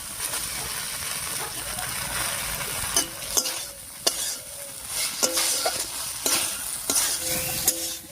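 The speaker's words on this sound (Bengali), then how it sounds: "ঝিঙেটা দিয়ে আলুর সঙ্গে একটু নাড়িয়ে নিয়েছি" Ridge gourd and potatoes in a spiced, oily paste are stirred in a pan, with a steady sizzle broken by repeated scraping and clacking of the spoon against the pan.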